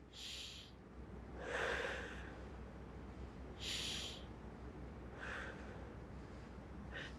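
Slow, controlled breaths during a kettlebell shoulder exercise, close and clear, with five sharp nasal exhales and inhales spaced about a second or two apart over a low steady background hum.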